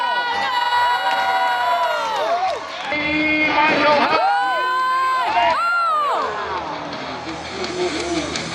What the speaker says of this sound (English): the crowd yells wild